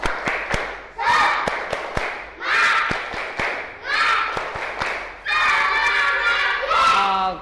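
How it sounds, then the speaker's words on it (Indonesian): Classroom of students doing a rhythmic spirit clap in a school lesson, with sharp claps in patterned bursts mixed with chanting voices, loud and close, repeated in several rounds. "Tepuk semangat."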